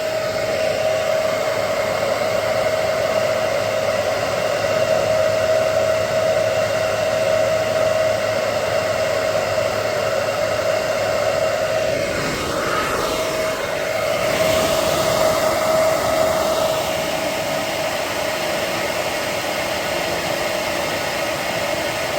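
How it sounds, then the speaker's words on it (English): Electric blower blasting air against a wall in a garage while a 1957 MGA is being restored, a loud steady roaring whoosh with a faint whine, shifting slightly midway, no talking. "I'm going to aim my blower at the wall here, my wall O parts, and you'll see how well it does work"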